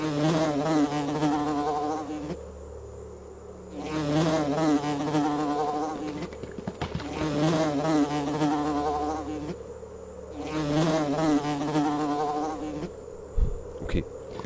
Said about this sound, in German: Was ist denn hier? Eine Fliege.